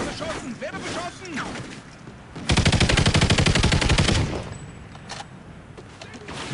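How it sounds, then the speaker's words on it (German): Rapid automatic gunfire erupts in Call of Duty: Ghosts, a loud sustained burst of rattling shots lasting over a second amid game effects, with excited talk around it. "Werde beschossen!"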